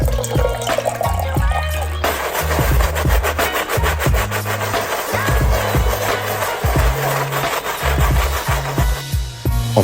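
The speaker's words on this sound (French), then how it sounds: "Et ensuite, on peut commencer à nettoyer la chaussure." A brush scrubs a Nike Air Force 1 sneaker during cleaning, making close, rhythmic back-and-forth rubbing strokes over a low steady background.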